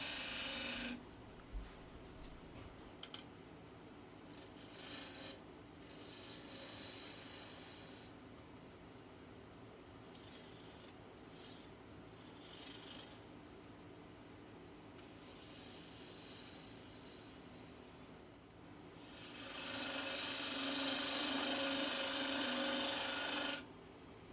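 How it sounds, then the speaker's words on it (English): A half-inch bowl gouge cuts a wooden mushroom spinning on a lathe, giving rasping, scraping bursts that start and stop repeatedly, with a longer, louder cut near the end. "for right now, we're just turning the top and turning the body of this mushroom"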